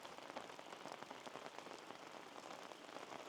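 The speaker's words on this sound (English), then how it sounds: "all the rain that I thought was going to be here earlier today has finally showed up" Steady rain falling in the Australian bush on a 100-year-old 4WD track, a dense, even hiss of drops pattering on surfaces without pause, fairly close and continuous, with no voices.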